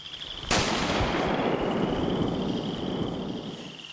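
Rifle shot at a bear during a baited hunt, a single sharp loud crack close to the microphone, followed by a long fading rumble and a persistent high insect buzz in the background.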